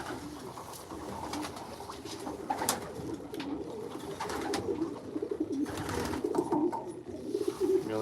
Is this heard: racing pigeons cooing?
yes